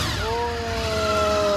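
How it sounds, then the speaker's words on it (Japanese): A 1998 Honda VFR800 V4 motorcycle engine runs close by with a smooth, even tone that rises slightly early on and then holds steady for under two seconds. "すまん、エンジンを聞かせてもらえますか。"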